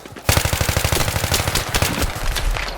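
An M16A3 rifle in the video game Battlefield 3 fires a rapid, loud automatic burst of evenly spaced shots for over two seconds, followed by a few trailing cracks.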